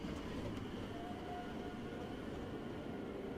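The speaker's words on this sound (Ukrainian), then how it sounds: "Тут їде поїзд." A train passes in the puzzle video game Rusty Lake Underground Blossom: a continuous, fairly quiet rumble with rolling wheel noise, and no talking over it.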